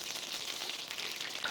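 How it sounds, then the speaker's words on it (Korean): Butter and olive oil sizzle in a pan for frying eggplant, a steady dense crackle with tiny popping bursts of moisture, close and continuous with no talking. "지금 타닥타닥 물기가 터지는 소리가 들리시죠?"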